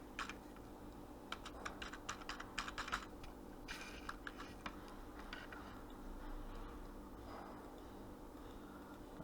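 Computer keyboard typing, a quick run of light close clicks in the first few seconds, then sparser taps over a faint steady hum, quiet overall.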